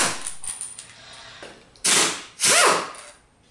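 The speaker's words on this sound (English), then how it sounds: "Use an impact wrench with a 10mm hex to remove the 8 bolts from the outer gear" An impact wrench fitted with a 10mm hex socket backs bolts out of the outer gear reduction cover on an MK S pump gearbox. Two loud, close ratcheting bursts come after some quieter mechanical clicking.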